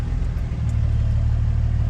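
An old Cummins truck engine runs at a steady idle with a deep, close, continuous rumble and a regular pulsing throb, loud and unbroken for the whole moment.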